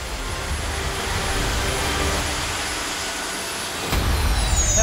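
A steady, loud roar from a jet suit driven by six small jet engines, sustained throughout at close range and swelling slightly near the end, with no talking.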